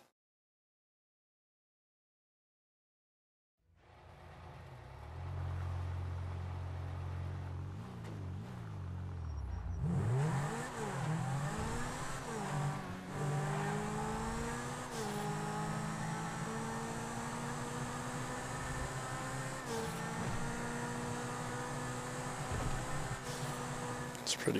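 A fully upgraded DLC car from GTA 5 starts up after a few seconds of silence, then drives continuously with steady engine drone and rising revs as it accelerates, loud and sustained to the end with no talk.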